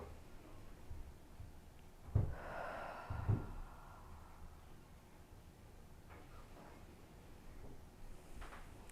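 Deep breathing during a beginners' yoga session, a couple of slow, audible inhales and exhales close to the microphone over a quiet background, with no talk.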